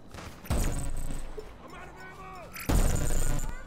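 Gunfire in GTA Online, two loud broadband blasts with sharp onsets and ringing tails, under excited talk in between.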